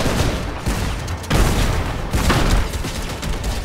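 Grenades going off in a Fortnite match: a dense run of loud booms and blasts with crackling gunfire-like bursts, near and continuous, with no talk over them.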